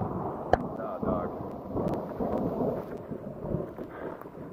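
Thunder rumbles during a storm on Mount Fuji, a low rolling roar with rain and wind noise on the microphone, opening with a sharp crack and continuing steadily at close range.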